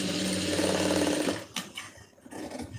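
A sewing machine stitches fabric in a fast, steady whirring run close by for over a second, then stops, leaving a few soft handling clicks and rustles.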